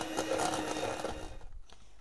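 An electric mixer whirs steadily as it beats mascarpone cheese with vanilla, a close, continuous buzzing hum that thins and drops out near the end.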